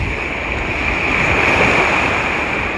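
Heavy surf crashes continuously on a rocky shore close by, a broad rushing wash of water with wind noise over it and no pauses.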